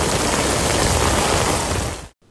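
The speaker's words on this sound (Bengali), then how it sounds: "মসজিদে নববীতে বৃষ্টির পরিমাণ এতই বেশি ছিল" Heavy rain pours down in Medina, Saudi Arabia, near the Prophet's Mosque: a dense, loud, steady roar of water falling and splashing that runs unbroken before cutting off abruptly near the end.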